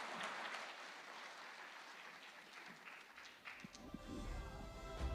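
Audience applause at a TV9 summit stage event for Akhilesh Yadav: steady, dense clapping from a large crowd filling the hall at a constant level throughout.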